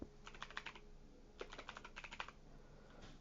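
Someone types into a game's atlas search on a computer keyboard in two quick bursts of light, close clicking keystrokes separated by a short pause, with no speech.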